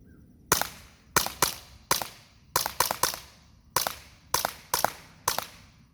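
A Barra 009 pistol fired semi-automatically with a Glock magazine produces about a dozen sharp, loud shots in quick pairs and single cracks, each with a short decaying echo, with no talking.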